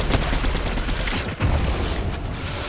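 Gunfire in a video game: a dense, loud burst of rapid shots runs through the whole stretch, with a heavier boom near the middle and constant action noise underneath.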